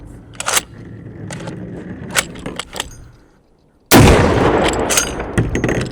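Auto Ordnance TAO 50 rifle: quiet handling clicks, then a single very loud, close blast with a long rolling echo that fills the remaining seconds.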